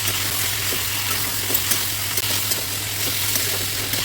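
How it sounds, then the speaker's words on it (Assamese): Spices with salt and turmeric being stirred in a hot frying pan for a brinjal and egg curry, a steady sizzle with soft scraping strokes, close and even, no voices. "আৰু এতিয়া এইখিনি ভালদৰে লৰাই দিম।"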